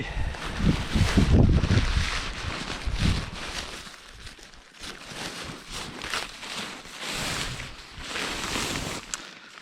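Outdoor wind buffets the microphone in gusts, with broad rumbling noise and some rustling movement close by, steady throughout.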